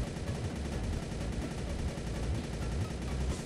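Rapid, continuous automatic gunfire from a Thompson Gold submachine gun in a video game rattles without pause, a dense burst of shots filling the whole stretch with no talking.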